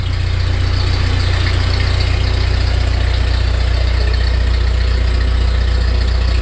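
A freshly rebuilt Ford 8N tractor engine idles steadily right after its first start, a loud, close, low rumbling chug with an even rhythm throughout and no talk.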